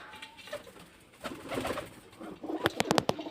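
Soft, close pigeon coos in low murmuring phrases, followed by a few sharp fluttery clicks near the end.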